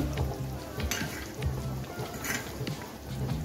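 A fried egg drops into boiling gravy, giving a busy low bubbling simmer with a soft sizzle and occasional spoon clinks and scrapes, fairly quiet and without voices.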